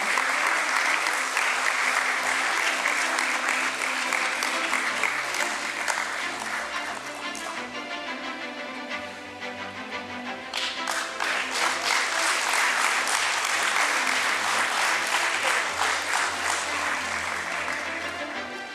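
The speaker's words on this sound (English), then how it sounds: "Let's give them an applause, everyone." Sustained crowd applause at a company's stock listing ceremony, a thick wash of clapping that dips briefly mid-way then picks back up and continues strongly to the end.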